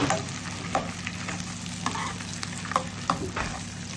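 Ginger and garlic frying in a pan, a gentle continuous sizzle with several light utensil taps and scrapes at irregular intervals, close and fairly quiet, without speech.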